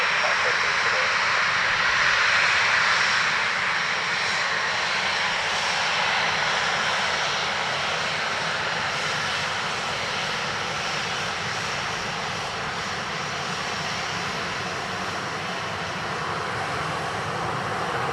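A Ryanair jet airliner from Porto roars past at Dublin Airport, a broad sustained engine rumble and hiss that peaks early and slowly fades, heard from a distance.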